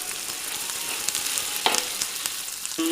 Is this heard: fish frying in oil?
yes